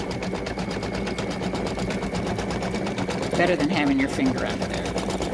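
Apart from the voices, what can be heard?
embroidery sewing machine stitching turkey pendant body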